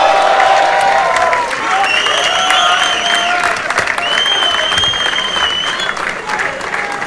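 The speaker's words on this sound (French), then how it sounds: "faites du bruit" A rap battle audience at a Rap Contenders event bursts into sustained applause and cheering, loud and close, with whistles and shouts rising over the clapping.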